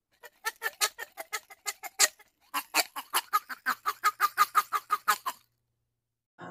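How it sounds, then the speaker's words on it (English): A duck quacks in rapid repeated bursts, two quick runs of loud honking calls separated by a brief pause, close by and alone. "This is a duck."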